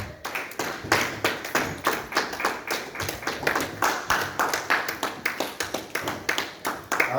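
A church congregation in Brussels claps in a steady rhythmic beat, loud and close, filling the room with even, repeated hand claps and no voices on top.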